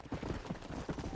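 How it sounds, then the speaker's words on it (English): A horse gallops in Red Dead Redemption, its hooves striking in a quick, rhythmic clip-clop, quiet and steady with no talk. "to spur your horse, move faster"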